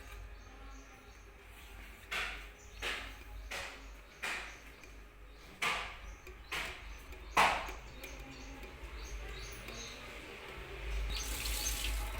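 Water splashes and pours in several short bursts onto a holy basil plant, each a brief gush, with quiet background hum and a faint voice.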